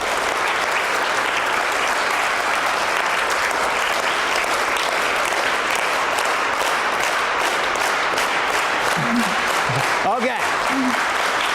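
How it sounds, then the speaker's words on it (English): An audience clapping together at a science talk on waves and lasers, loud steady applause that thickens into a rhythmic, pulsing beat as people try to synchronize, with a brief spoken word near the end. "I want you to synchronize your clapping"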